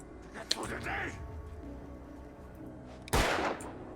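Gunshot in the video game Alan Wake Remastered: a single sharp blast bursts out late, following softer game noises and muffled sounds earlier, with a voice speaking faintly in the background.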